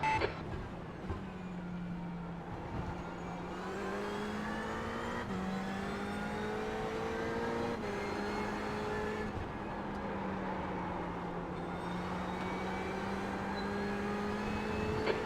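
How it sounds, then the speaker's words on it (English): Race car engines in the iRacing sim drone steadily as the cars run at speed, with a rising and falling pitch as they shift gears and other cars pass close by, and no talk over them. "Okay, Paul, there's a faster car approaching."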